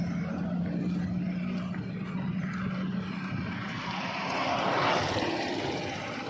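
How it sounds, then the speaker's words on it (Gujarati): A tractor passes by a moving bus on the road between Bharuch and Jambusar. Its broad engine roar swells and peaks near the end over steady road rumble. "દોસ્તો, આપણું ફેવરેટ ટ્રેક્ટર આવી રહ્યું છે"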